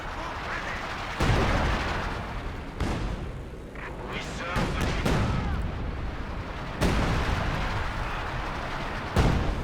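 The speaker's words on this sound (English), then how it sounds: "here comes some more artillery, but I think that's decoy barrage" Artillery from a decoy barrage in Company of Heroes 2 lands in several heavy, booming blasts spaced a few seconds apart, with rumbling battle noise filling the gaps and a voice speaking underneath.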